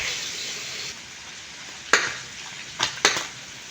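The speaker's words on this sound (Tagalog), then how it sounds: "Igisa natin mabuti para mawala yung lansa." Ground pork sautéing in a pan, a steady close sizzle that eases after a second, broken by three sharp scraping stirs near the end.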